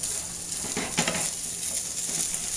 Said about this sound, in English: we're going to stir our turkey.